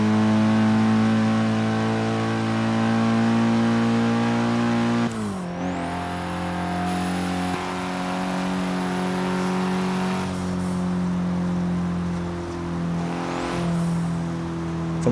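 Four-cylinder car engine in Forza Horizon 3 revving loud and steady, with a drop and pitch shift around five seconds as it changes gear, then climbing and holding at high revs, no talk.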